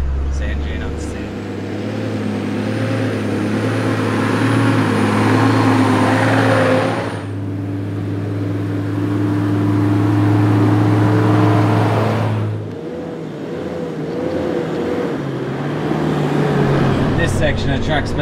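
Engine of a car towing a trailer across desert sand dunes, droning and labouring continuously with shifting revs and a muffled cabin rumble, with a person talking over it at times.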